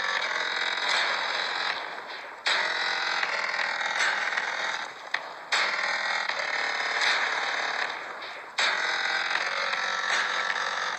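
Wubbox machine on Earth Island in a video game, slowed down: a continuous grinding, creaking mechanical drone with ratchet-like clanks, broken by several sharp drops and restarts, loud with no talking.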